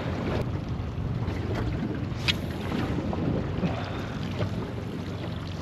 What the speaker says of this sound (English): It's still really windy, but it's supposed to drop off a little bit later.